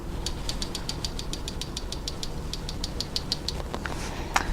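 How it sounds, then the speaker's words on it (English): A closed Benchmade Grizzly Creek knife with a 440C gut hook gives off a quick series of faint, evenly spaced metallic clicks and rattles, as if shaken by hand, heard close with no voices over a soft background hiss. "I did encounter one very minor issue with the 440C gut hook, and that is when it is closed, it does have a tendency to rattle inside the handle."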